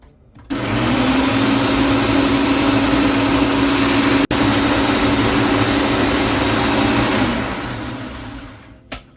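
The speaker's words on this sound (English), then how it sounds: "The beans should be fully blended now." A blender running with soaked beans and no added water, being ground smooth for akara: a loud, continuous motor whir and grinding that starts abruptly, holds steady with a brief click midway, then winds down.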